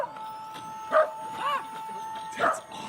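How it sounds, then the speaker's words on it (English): A dog barks a few times during a live robotics demonstration of the Cassie bipedal robot, short sharp yaps spaced across the moment over a steady electronic tone and crowd chatter, with people talking nearby. "it's a dog"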